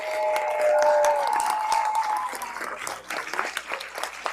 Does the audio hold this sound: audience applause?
yes